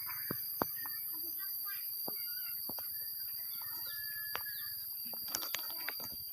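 Chickens in a rural Lao Bru village cluck in scattered, sharp bursts at varying distances, with occasional louder calls, over a steady outdoor hiss.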